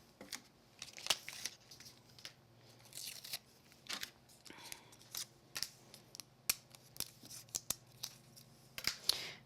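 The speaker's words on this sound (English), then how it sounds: "Okay, and peel all of our tape back." Tape is peeled back off a glitter craft project in a series of quiet, close crinkling and tearing bursts, irregular and spaced through the whole stretch.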